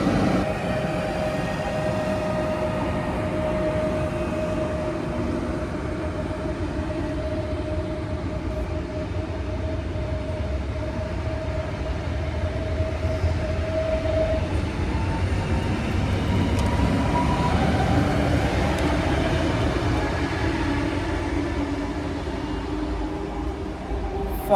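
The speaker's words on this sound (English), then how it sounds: "Finally, that train is gone." A train rolls past a platform on Railway Line 509 near Warsaw with a continuous low rumble and a steady tonal hum, sustained for a long stretch without talk.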